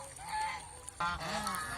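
Farm geese on a rural goose farm give loud, close honking calls, a drawn-out honk followed by a burst of overlapping honks, with no speech.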